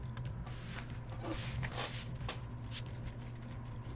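Playing cards shuffled right up against a microphone, a run of crisp riffling bursts and flutters spread across several seconds, close and fairly soft, with no speech over it.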